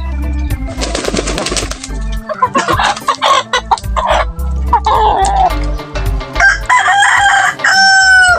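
Chickens cluck and a rooster crows loudly and close by, several overlapping calls in quick succession with a steady low hum beneath.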